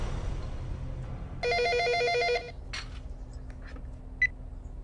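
A house telephone rings once with a bright, rapid electronic trill of about one second, followed by faint clicks and small rustles in a quiet room.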